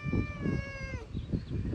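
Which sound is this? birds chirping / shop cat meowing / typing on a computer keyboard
shop cat meowing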